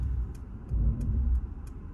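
A 2021 Mercedes S-Class with rear-axle steering eases out of a parking space, giving a low, steady engine and tyre rumble with a slight swell midway and faint clicks above it.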